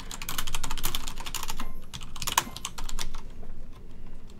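Rapid clattering keystrokes on a computer keyboard during a Smite match, steady bursts of close, crisp clicks with brief pauses between runs.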